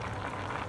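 A pot of fish soup bubbles steadily at a low rolling boil, a continuous dense burble with no pauses.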